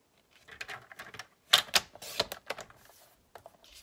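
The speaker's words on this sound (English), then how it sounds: "I'm going to cut 3 inches again" Paper being cut to three inches with a trimmer or scissors during a stamping craft class, a run of sharp, close slicing and clicking strokes in quick irregular bursts, with no talk.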